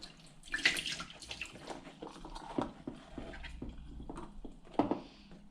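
Water draining from a carp-drying container in uneven bursts, with gurgles and a few sharper splashes, fairly quiet and close, no talking.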